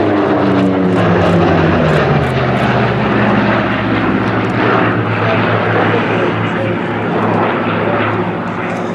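Silver two-seat T-20 propeller aircraft with a Pratt & Whitney R2800 radial engine flying at an air show, giving a loud, steady, continuous drone that holds throughout without pause.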